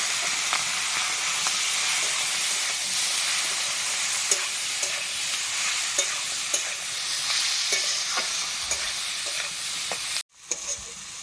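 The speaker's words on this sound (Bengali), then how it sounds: "আর কিছুটা তেল দিয়ে চিংড়ি মাছগুলোকে ভেজে নেব।" Prawns frying in oil seasoned with salt and turmeric, a continuous loud sizzle with occasional stirring clicks, ending in a brief sharp cutoff near the close.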